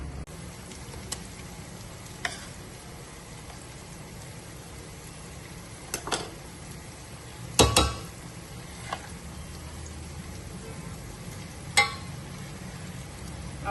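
Coarsely pounded turnips go into a pot of chicken masala and are stirred, giving a soft steady sizzle with scattered clicks and scrapes of the spoon against the pot, one louder clatter near the middle.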